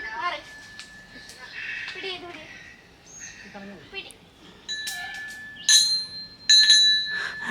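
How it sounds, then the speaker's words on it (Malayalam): Small bells ring at a hilltop temple, mostly under ongoing talk at first, then several brighter, louder chimes rise near the end of the clip. "ഒരു ശക്തിയില്ലാത്ത മണിയടിയായി ഇപ്പോൾ."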